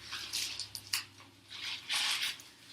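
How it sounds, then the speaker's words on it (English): Watercolor paint dripped from a dropper onto a tray of shaving cream, giving soft wet squishes and drips in a few separate bursts, close and quiet. "go ahead and drip your watercolor paint onto the shaving cream"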